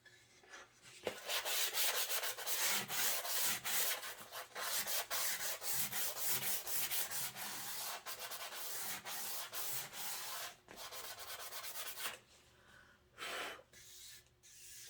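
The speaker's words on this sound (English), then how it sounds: "I'm gonna hit it with this 600 grit just to get it even finer" Raw wood is hand-sanded with 600 grit sandpaper in quick, steady back-and-forth strokes, close and raspy, with a few short pauses between passes.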